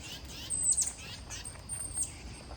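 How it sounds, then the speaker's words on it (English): Birds squabble overhead outdoors, giving short high chirps and calls in a few bursts that rise and fall over steady background noise, fairly faint and without talk. "There are some birds fighting right over my head."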